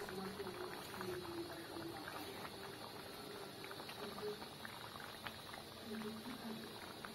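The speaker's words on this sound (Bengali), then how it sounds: "এখানে ঝোলটাও ফুটে উঠেছে।" Chicken curry with potato and papaya simmers in a pot, a steady low bubbling and hiss of liquid that carries on without pause.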